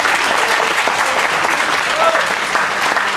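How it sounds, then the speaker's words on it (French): An audience applauds a club instructor, with steady, dense clapping that fills the whole stretch at an even, fairly loud level and no break in the sound. "On peut l'applaudir."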